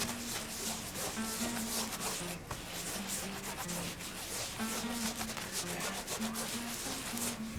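A paintbrush scrubs primer into a rubber roof membrane, giving a steady, close, continuous rubbing and scraping texture that runs throughout without pause.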